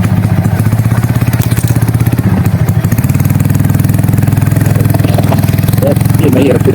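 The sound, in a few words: motorcycle engine on a rough trail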